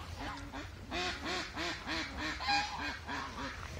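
A flock of farm geese honks in a steady series of nasal calls, a few close and fairly loud, with others overlapping in the background.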